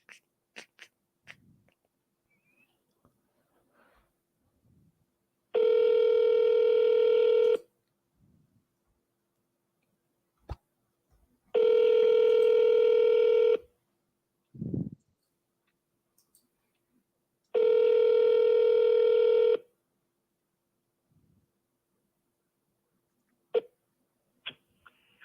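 A telephone call connecting to an agent rings three times, each long even ring tone separated by a few seconds of near silence, with a couple of faint clicks in between.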